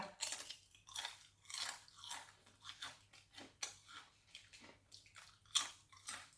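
Repeated crisp crunches of wavy-cut Lay's potato chips being bitten and chewed close to the mic, irregular bursts with short pauses, no talking.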